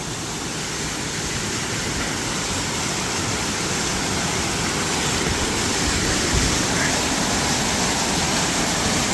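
A waterfall beside a hiking trail near Machu Picchu roars in a dense, constant wash of close, loud white water, steady from start to finish with no talk over it.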